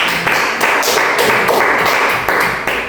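A class of ninth-grade science students applauds a presenting group, a loud, dense run of close hand clapping with brief surges and no talking.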